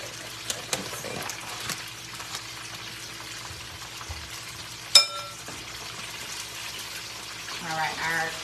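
Unbreaded, marinated chicken wings frying give a steady, soft sizzle and crackle with a sharp clatter partway through, while a faint voice murmurs toward the end.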